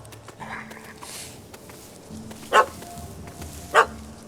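In The Witcher 3: Hearts of Stone, a dog barks twice at a cat that has run up a tree, sharp, spaced yelps over steady game ambience, music and a speaking voice.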